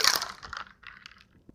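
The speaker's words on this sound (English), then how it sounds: "And now we shake." A bourbon cocktail is shaken in a shaker, giving a short, close burst of rattling, crunching ice that quickly tapers off with a few lighter clinks.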